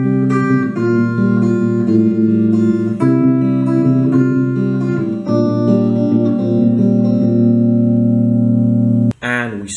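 An electric guitar run through effects, with distortion, chorus and reverb, plays the verse of a song as a sustained, ringing chord sequence, close and loud, with a short break and string noise near the end.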